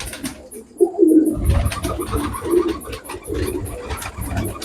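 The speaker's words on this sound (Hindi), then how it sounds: "ये 5 नंबर कबूतर है जी" A Teddy pigeon, a prized bird kept by a fancier in Islamabad, coos in low throaty bursts close by, with rustling and background noise throughout and no talking.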